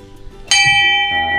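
A single loud strike of a temple bell rings out close by, with a bright metallic clang that sustains and shimmers for the rest of the moment.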